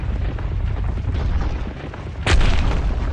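Boulders rumble and roll in the Endless Nightmare 3 horror game at a shrine, a low grinding roar that ends in one loud, sudden thud near the end, with no speech.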